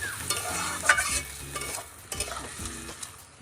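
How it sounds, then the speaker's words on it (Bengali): Dried fish curry in a Bengali kitchen is stirred in the pan after water is poured in, giving repeated scraping strokes and soft bubbling sizzle with a low hum beneath. "জল দিয়ে আবারও নেড়ে নিচ্ছে।"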